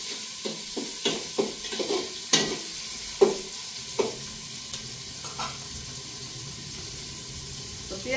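Onion frying in a pan, with quiet sizzling broken by a series of short stirring scrapes and clinks at an uneven rhythm, close and fairly soft, with no talking.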